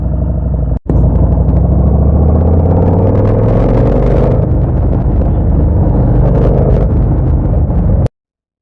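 A motorcycle riding along a road at the start of a trip, a loud, close engine rumble under heavy wind buffeting, briefly cutting out near the start and stopping abruptly at the end.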